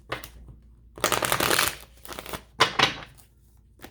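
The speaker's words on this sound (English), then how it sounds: "I need one more shuffle." Tarot cards being riffled and shuffled in a few quick bursts, a long crisp flutter in the middle and shorter ones after, close by with no talking.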